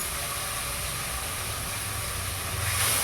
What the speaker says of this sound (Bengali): মশলাটা দিয়ে একটু ভাজা ভাজা করে নিই।